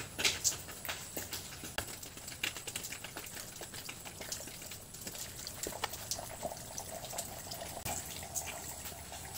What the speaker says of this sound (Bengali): এই ময়লা পানিটা আমরা দিতে আছি আস্তে আস্তে করে।